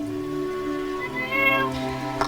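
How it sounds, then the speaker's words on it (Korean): A cat in the farming game My Time at Portia gives a few drawn-out, rising meows over steady background game music, ending with a brief sharper sound. "아, 고양이다, 고양이"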